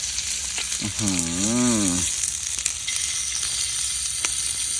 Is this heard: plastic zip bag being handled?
no